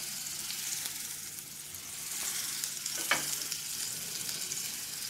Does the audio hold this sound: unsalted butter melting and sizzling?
yes